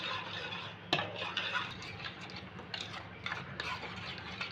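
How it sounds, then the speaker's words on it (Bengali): Yogurt, coriander chutney, salt and chili flakes stirred together in a bowl for a bread toast batter, a steady soft scraping and clinking of a spoon with a few sharper knocks, close and alone. "আমি ঘেটে নেব সব একসাথে দই চাটনি নুন আর চিলি ফ্লেক্স"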